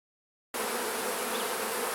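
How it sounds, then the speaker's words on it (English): Dense bees buzzing around a massive open hive during a split, a loud, close, continuous drone that starts abruptly and holds steady. "There's just so many bees here"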